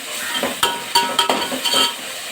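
Tomatoes sautéing in a pan for Tamil fish curry (meen kulambu), a close sizzle broken by several sharp spoon scrapes and clanks against the pan in an uneven rhythm, with no talking.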